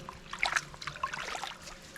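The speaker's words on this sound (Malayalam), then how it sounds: "അപ്പം പുഴുങ്ങി തണുത്തിട്ടുള്ള തഴ നമ്മൾ ഈ വെള്ളത്തിലേക്ക് ഇട്ട് വെക്കുകയാണ്." Boiled, cooled screwpine leaves are laid into a large pot of water, making soft close splashes and trickling drips that are fairly quiet and heard alone.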